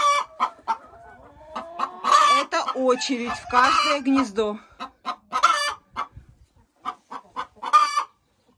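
Hens cluck busily in a henhouse on a morning when every nest is taken, with a rooster among them. Close, loud bursts of clucking and calls come in irregular clusters, and someone talks over and between them.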